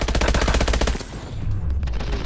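Rapid automatic gunfire from a weapon in Call of Duty: Advanced Warfare, a loud dense burst of shots in quick rhythm that briefly thins out before resuming, with no talk over it.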